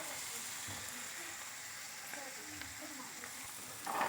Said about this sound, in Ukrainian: Цибулька, цибулька, цибулька більш-менш вже піджарилась, закидаємо морковочку.